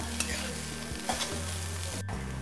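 Green chilies fry in a pan while being stirred, producing a continuous close sizzle with brief scraping strokes and a short break near the end.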